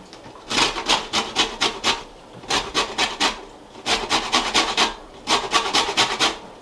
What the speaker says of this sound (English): Now we need to zest 2 lemons.